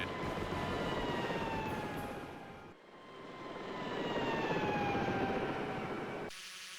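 A game aircraft engine drones steadily while setting down on a hospital lawn, a loud sustained whine that dips briefly, swells again, then cuts off near the end.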